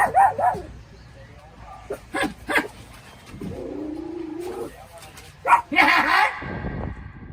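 A person imitates a dog, letting out several short yappy barks and a whiny whimper, with pauses between the bursts.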